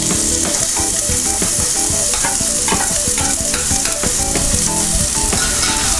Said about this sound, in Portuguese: Nós vamos refogar a cebola.